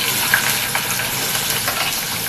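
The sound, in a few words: onions added to hot oil with fried fennel seeds, sizzling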